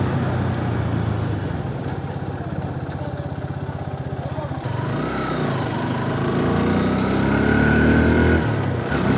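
Engine drone of a Hero Xtreme 160R 4V motorcycle at highway speed, steady and close with a pulsing tone that shifts midway as the ride continues, wind rush underneath.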